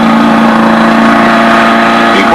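The engine of a Wallis autogyro runs steadily at opened throttle, a loud, sustained drone with a strong constant hum and no break.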